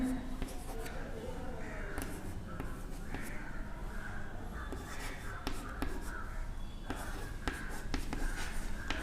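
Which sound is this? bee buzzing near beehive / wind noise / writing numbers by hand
writing numbers by hand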